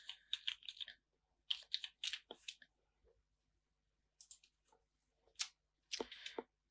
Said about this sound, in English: So let me type H3,